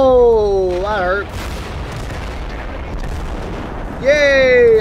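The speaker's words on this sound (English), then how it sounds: "I'm having fun now with artillery." Artillery fire in the game Total Conflict Resistance booms heavily through the middle, broad rumbling blasts sandwiched between stretches of whistling, tonal game effects at the start and end.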